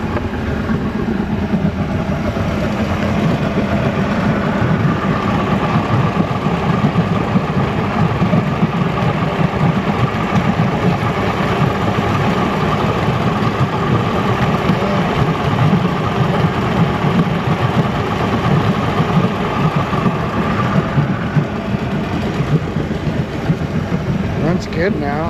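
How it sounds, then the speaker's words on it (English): A Sea-Doo two-stroke engine runs at a steady idle throughout, a loud, close, continuous buzzing rumble with an uneven throb. Someone talks over it now and then. "Starts right up, smokes a lot. That's a 2-stroke."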